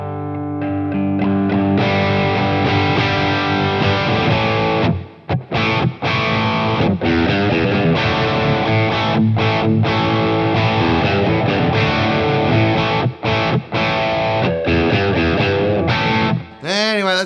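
An electric guitar driven through a Big Dragon overdrive pedal, picked hard with a heavy pick so it breaks up into thick, gritty distortion, plays loud, sustained chords and riffs with brief gaps between phrases.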